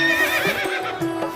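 A horse whinnies loudly and close, a single rising and falling neigh with a faint clip-clop of hooves behind it and no talk.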